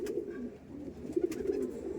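Madras pigeons, a male and a female, giving low throaty coos close up in a few short rolling phrases, quiet and alone.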